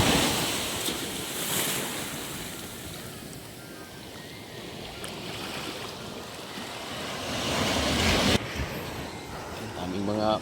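Sea waves surge and wash onto a beach in a continuous broad roar, swelling and easing, with heavy wind buffeting the microphone throughout.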